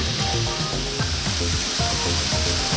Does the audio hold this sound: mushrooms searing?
yes